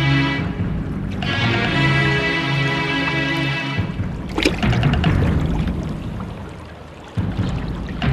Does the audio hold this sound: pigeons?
no